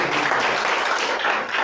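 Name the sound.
audience applause in church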